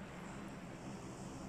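A propeller airplane in PUBG Mobile drones overhead with a steady, low engine hum, faint and unbroken, heard alone without talk.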